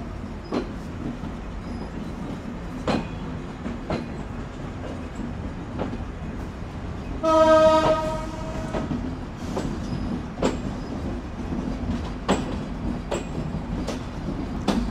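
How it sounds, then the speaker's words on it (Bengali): A train pulls out of Kotchandpur railway station, a steady rumble with regular rail clicks and a brief squealing whine of wheels or brakes partway through, no voices. "এখন ডিপারচার নিচ্ছি কোটচাঁদপুর রেলওয়ে স্টেশন থেকে"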